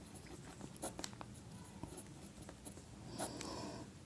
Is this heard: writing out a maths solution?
yes